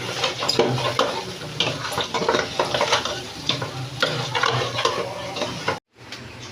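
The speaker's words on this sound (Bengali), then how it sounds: "পোলাওটা আবার একটু নাড়া দিয়ে দিই।" Polao is stirred in a pot beside a kadai of frying potatoes and onions: repeated scraping, clattering strokes over a constant sizzle, with a brief pause near the end.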